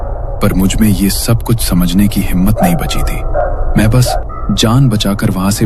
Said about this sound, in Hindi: उन कुत्तों के तेज भौंकने की आवाज